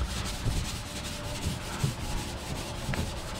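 A scuffing pad rubs lightly across the freshly painted hood of a pickup being camouflaged, giving a steady close-up scratchy scrubbing with a few soft knocks, with no talking.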